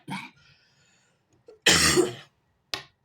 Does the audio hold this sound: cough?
yes